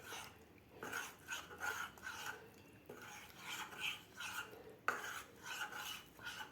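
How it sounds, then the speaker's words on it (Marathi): A spoon stirs ragi (finger millet) flour into water in a vessel to break up the lumps, giving a steady run of close scraping and clinking strokes with no talk. "आता आपल्याला यामध्ये पाणी घालून व्यवस्थित मिक्स करायचं आहे।"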